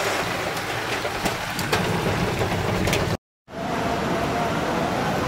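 Ice falls during a storm in Taif, producing a dense, loud patter and rattle like heavy rain striking surfaces, continuous apart from a brief silent gap partway through.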